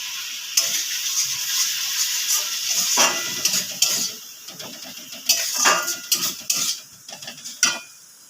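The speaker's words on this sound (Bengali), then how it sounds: "লঙ্কা হলুদের জলটা দেবো, দিয়ে কিছুক্ষণ কষিয়ে নেব।" Chilli-turmeric water poured into masala sizzling in a pan, a steady hiss and sputter with scattered stirring scrapes and spoon clinks, close and continuous with no talk.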